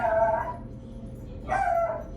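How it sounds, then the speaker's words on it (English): Two short dog barks or yips, about a second apart, fairly close against a quiet background. "Ugh, dog's barking, so somebody's coming home."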